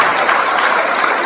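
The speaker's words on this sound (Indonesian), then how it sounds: "Tepuk tangan lagi." Audience applause fills the room at a religious gathering, a steady, dense wash of many hands clapping close and loud throughout, with no gaps or voices standing out.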